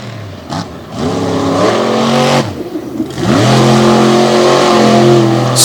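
Ford-bodied and Chevy-bodied race trucks launching side by side in a drag race at Jennerstown, engines roaring loud and close, revving up, a brief shift dip, then climbing again in a sustained powerful pull.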